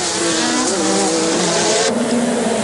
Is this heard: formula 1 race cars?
yes